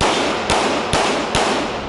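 Three paintball guns firing at a gun range, evenly spaced sharp pops roughly half a second apart over a steady loud background hiss.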